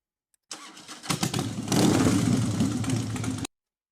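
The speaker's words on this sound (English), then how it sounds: "There's even a Harley in here somewhere." Harley-Davidson motorcycle sound played from a Beier RC sound module: a short start-up burst, then a loud, steady engine rumble that runs for about two seconds and cuts off abruptly.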